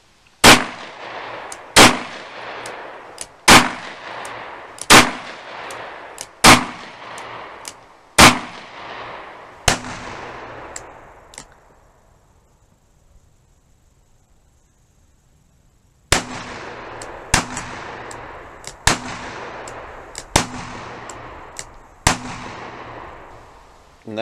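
Loud, close handgun shots firing .357 loads from .38 Special cases at short range: about six sharp reports at an even pace, a pause of several seconds, then five more, each with a brief ringing tail.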